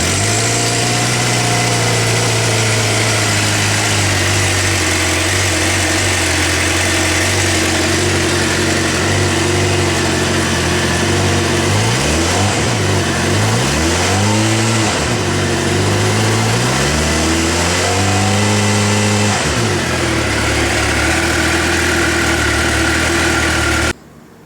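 A 2008 Suzuki GSX-R 600 motorcycle engine runs at a loud, steady idle up close, then blips its revs a few times in rising and falling sweeps before settling and cutting off.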